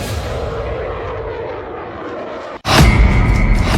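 A fighter jet of the Indian Air Force roars loudly with a broad rushing engine noise, then cuts abruptly into a sharper, louder blast of jet sound, with no speech over it.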